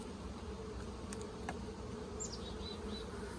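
Honey bees buzz steadily on hive frames during a colony inspection, a dense, even drone that holds close and continuous throughout, with a few faint higher whines from individual bees passing near.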